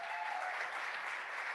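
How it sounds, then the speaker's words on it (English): A live crowd at a celebratory evening event claps in a dense, steady round of applause that holds at an even level from start to finish. "Can we get another round of applause for Stephen Page and Sean Fields?"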